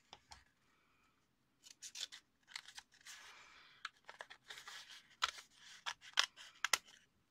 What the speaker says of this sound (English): I'm gonna cut it again here.